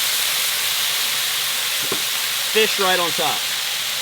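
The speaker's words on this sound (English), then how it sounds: "Close that dome and let the grill steam happen" Salmon and vegetables steam on a covered grill with a steady, loud sizzling hiss that runs throughout, briefly interrupted by a clunk, while someone speaks near the end.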